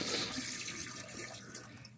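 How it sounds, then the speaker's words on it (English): Antifreeze pours down an RV sink drain while winterizing in cold weather, a steady close liquid rush and gurgle lasting about two seconds with no voices. "pour it down into every sink,"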